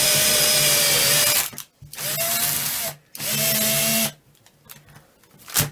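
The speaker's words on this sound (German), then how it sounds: "und dann bohren wir einfach ein etwa 2 bis 3 cm tiefes Loch gerade hinein." Power drill boring a 2–3 cm deep hole into a craft piece for a lit Easter bunny and flower decoration, three loud whining bursts with brief pauses between, then quiet handling noises and a short final rev.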